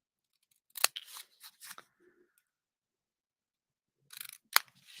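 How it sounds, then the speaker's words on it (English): Scissors snip the corners off a sheet of red paper in a quiet room, a few sharp close cuts in a quick burst, then silence, then another short cluster of snips. "I'm going to grab my scissors, and all I'm going to do is cut off these corners"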